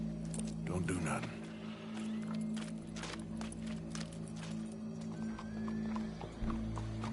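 Horse hooves clip-clop in the Red Dead Redemption 2 video game, a steady run of close hoofbeats over a constant low hum, with a voice speaking over part of it.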